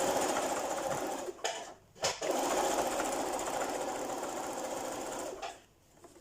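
A sewing machine top stitches a dress in a steady, continuous whir, close and even. It stops briefly twice, with a last short halt near the end.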